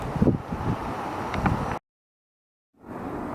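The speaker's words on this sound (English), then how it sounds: "it's a windy one today." Blustery wind buffeting the microphone outdoors, a steady rough roar that cuts out abruptly for about a second before returning.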